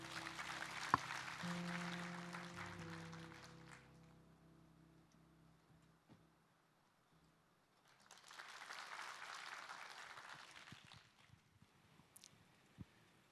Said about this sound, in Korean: 우리 박수로 환영해 주시길 바랍니다.